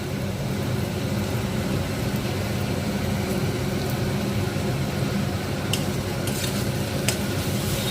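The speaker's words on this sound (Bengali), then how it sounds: "ভালো করে এগুলোকে ভেজে নিতে হবে" Spices fry in oil over a low gas flame for a mutton curry, making a constant dense sizzle close by, with a few faint clinks near the end and no speech.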